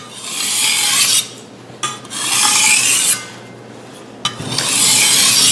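A Chinese vegetable cleaver (cai dao) is drawn across a coarse 325-grit DMT diamond plate in three long, even rasping strokes with short pauses between, close and loud with no talk.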